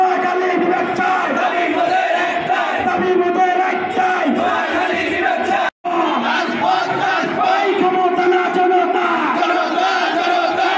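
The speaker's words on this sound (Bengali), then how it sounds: "রাজপথে স্লোগানে বিক্ষোভ মিছিলটি জেলা প্রশাসকের কার্যালয়ের সামনে থেকে নোয়াখালী প্রেস ক্লাব ও টাউন হলের মোড় হয়ে জেলা শহরের প্রধান সড়ক প্রদক্ষিণ করে" A large protest march crowd in Noakhali's streets chants slogans loudly and continuously in rhythmic unison, with a brief cut midway.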